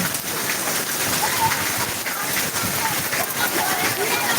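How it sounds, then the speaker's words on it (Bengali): Heavy hailstorm in Narayanganj pounding down, a dense, loud continuous roar of rain and hail on surfaces, with a voice faintly under it. "প্রচুর পরিমাণে শিলা বৃষ্টি হয়েছে আমাদের ঘরের ভিতরে পর্যন্ত শিলা বৃষ্টি আসতেছে প্রচন্ড ভাবে বৃষ্টি হচ্ছে"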